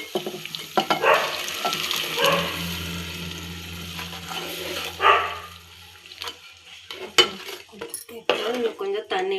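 Fish curry masala mixture for a Katla meen kuzhambu sizzling in a pan, with stirring and clattering of utensils, loud at first and fading to quieter bubbling and scattered clinks.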